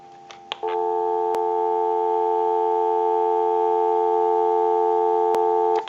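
A telephone busy signal sounds as a steady electronic tone after a couple of soft clicks, clear and close, on a Leich wood wall crank telephone, then cuts off.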